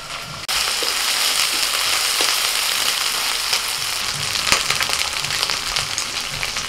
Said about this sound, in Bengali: আদা রসুনটা একটু ভেজে নিয়ে দিচ্ছি টমেটো কুচি